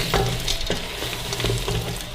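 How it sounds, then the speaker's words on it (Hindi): Chopped capsicum frying with minced meat keema in a pan, a steady dense sizzle with occasional stirring scrapes, close and continuous with no talking. "शिमला मिर्चें डाल देंगे, वो भी इसके साथ ही भुनेंगे।"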